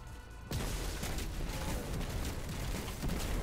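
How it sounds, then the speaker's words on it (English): A dense, sustained roar of grenade launcher blasts and gunfire from Destiny 2 combat, bursting in suddenly after a brief quiet start and continuing loudly with overlapping booms and crackle. "I'm going to be ready with my grenade launcher, grenade, and then just see what I can do."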